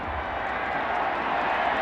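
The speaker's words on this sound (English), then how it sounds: "They are standing and cheering on the far sideline." Football stadium crowd at a college bowl game applauding and cheering, a steady broad roar of many distant voices and clapping with no distinct individual sounds.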